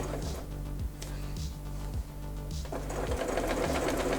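A sewing machine backstitches over the strap of a homemade sleep mask, running steadily and loudly with rhythmic needle thumps, briefly pausing near the middle before picking up again.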